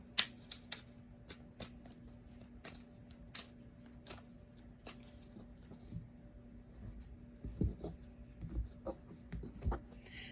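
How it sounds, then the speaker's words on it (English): Tarot cards from a Halloween deck being shuffled by hand, giving soft, close riffling and slapping bursts at an irregular rhythm, with a low steady hum underneath and a few louder flurries near the end. "I'm just going to finish our shuffle"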